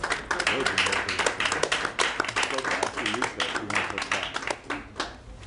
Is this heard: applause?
yes